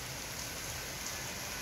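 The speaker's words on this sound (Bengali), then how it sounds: "এই যে বৃষ্টি হচ্ছে" Steady rain falling on a rainy morning, a soft, even hiss of drops on surfaces, continuous and unbroken with no voices over it.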